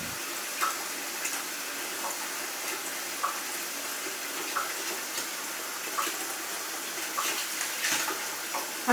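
Steady splashing rush of water poured into a container of barley grain set to soak, continuous and fairly close with small sloshing peaks throughout, no talking.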